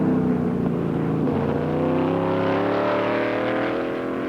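Race cars at the 1966 Players 200 at Mosport roar past the pits, a loud, sustained engine snarl that rises and shifts in pitch as they go by, with no other sounds on top.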